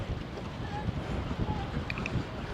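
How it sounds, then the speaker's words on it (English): Blustery wind buffets the microphone on Charmouth beach in Dorset, a constant rough rumble up close with faint surf behind. "it's quite blustery"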